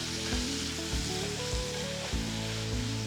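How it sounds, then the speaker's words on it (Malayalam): Onions and tomatoes sautéing in a pan with a little salt, a steady close sizzle broken by a few soft knocks of stirring, alone with background music and no talk. "നന്നായിട്ടൊന്ന് വഴറ്റിയെടുക്കുക"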